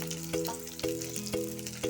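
Onion and green chilli tempering fries in hot oil, a steady close sizzle broken by regular spatula strokes roughly every half second, with no talking.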